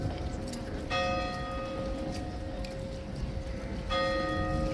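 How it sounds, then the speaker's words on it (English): Big Ben chiming in outdoor London surroundings: two ringing bell strikes about three seconds apart, each sustaining a bright tone over steady crowd and traffic rumble, with no talking. "Big Ben as well, chiming."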